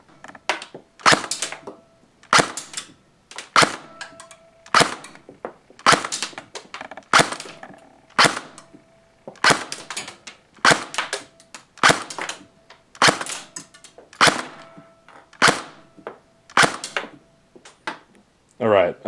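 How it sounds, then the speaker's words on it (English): A JG SIG 552 airsoft electric gun, running on a 9.6 volt mini battery, fires over a chronograph station. Crisp, loud single shots come at a steady pace of about one per second, roughly sixteen in all, with no talk. "let's go over to the chrono station and see what it's shooting"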